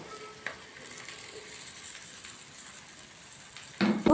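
Half a kilo of cut okra (ladies finger) frying in a pan with curry leaves, a soft steady sizzle with a couple of stirring scrapes and a louder burst of frying at the end.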